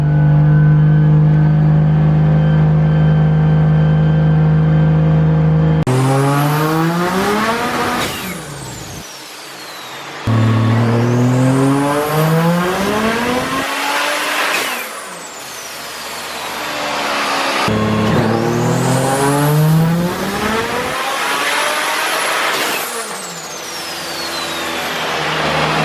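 A 1.5JZ engine on a dyno makes three long, loud revving pulls, each climbing steeply in pitch from low to high rpm, with brief drops to a low idle between them.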